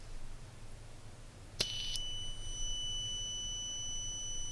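A cheap one-dollar buzzer module from Aliexpress sounds a single sharp, high-pitched electronic beep, loud and close, that starts abruptly and holds as a steady ringing tone over a quiet background.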